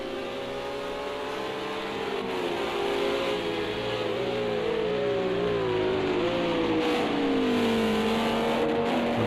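GT3 race cars, including a Cadillac and an Audi, roar through a racing video game with loud, continuous engine drone whose pitch rises and falls through gear changes, with no talk over it.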